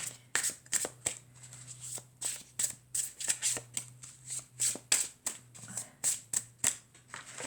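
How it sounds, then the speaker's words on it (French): A forest-themed oracle card deck is shuffled by hand in quick repeated riffling bursts, soft and close, with a steady rhythm of flicks before a card is drawn. "on va tirer une jolie carte de mon jeu forestier"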